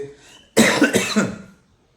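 A single harsh, close cough from someone with a heavy cough and phlegm bursts out after a brief quiet murmur, trailing off into silence.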